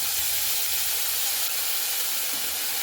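Ginger and green chili paste hits hot oil with cumin seeds for a jackfruit seed dish, producing a loud, continuous hissing sizzle close by that stays even for the whole few seconds.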